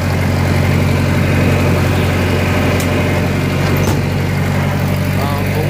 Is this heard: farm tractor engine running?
yes